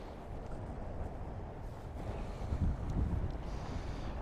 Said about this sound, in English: We've got northeasterly winds between about 20 and 30 knots.